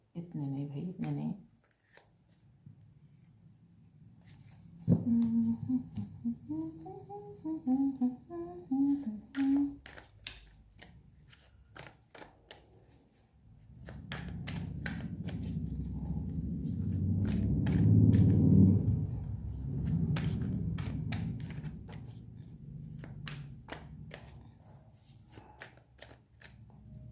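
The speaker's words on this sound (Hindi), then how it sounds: "अब मैं इस टैरो से इस क्वेश्चन के लिए कार्ड्स लूँगी।" Tarot cards shuffled by hand nearby, soft riffling and sliding bursts between stretches of someone talking.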